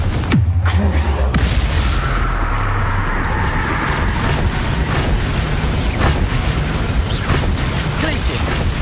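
Confringo explosion spell cast in Hogwarts Legacy, a loud, dense booming blast with rumbling game effects that fill the whole stretch, with a voice shouting over it.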